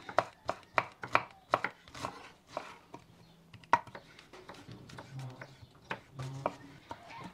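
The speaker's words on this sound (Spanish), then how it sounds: "Aquí piqué tres jitomates grandes y voy a picar dos chiles serranos." Tomatoes and serrano chiles being chopped on a board for salsa in a home kitchen, with a run of close, sharp knife strikes in uneven bursts; someone speaks in between the cuts.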